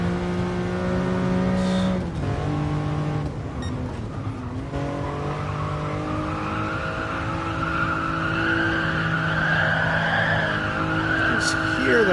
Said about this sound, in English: Hear them tires screaming.